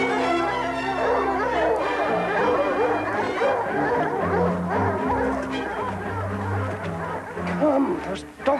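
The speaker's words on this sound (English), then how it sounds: "It's the sound of bloodhounds." Bloodhounds bay and howl in a loud, continuous chorus, with yips and whimpers mixed in and voices chattering underneath.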